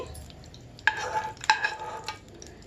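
Raisins fry in ghee while a spoon stirs them, a soft sizzle broken by a few sharp scrapes and clinks against the pan.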